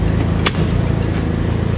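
A 1998 Toyota Tacoma truck engine runs at a steady idle, a loud, low, continuous rumble heard up close with a brief higher rattle in the middle.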